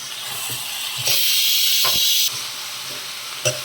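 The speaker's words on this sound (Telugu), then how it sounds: "ఇదిగోండి, ఉల్లిగడ్డ వేగుతుంది" Onions frying in oil for onion pickle: a loud, close hiss of sizzling oil that swells sharply for about a second and then eases back, with a few soft clinks around it.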